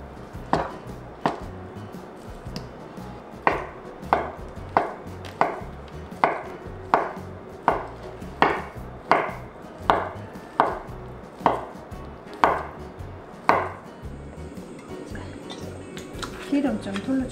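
A knife slices through a 340 g can's worth of Spam on a cutting board in steady, evenly spaced thunks, about one a second, with a faint voice in the background.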